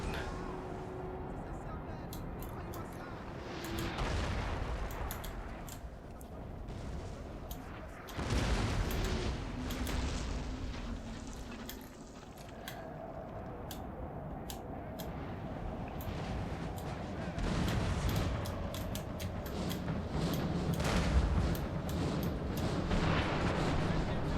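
Artillery and musket fire in a Napoleonic battle in the strategy game Napoleon: Total War, with distant booms and crackling volleys rumbling steadily under ongoing talk.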